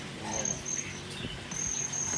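Crickets chirp at a cricket farm, a steady high continuous trill with brief pulsing streaks, fairly faint, over low background rumble and handling noise.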